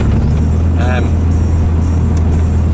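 A car driving over a river bridge, a loud steady low engine and road rumble from inside the vehicle throughout, with a brief voice heard over it.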